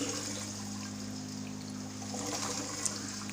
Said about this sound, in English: See the water flow.